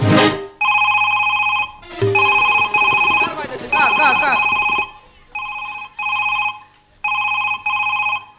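A telephone rings loudly in repeated electronic bursts with brief gaps between them, heard on a folk-theatre gajon stage, with speech and other sounds mixed around the rings.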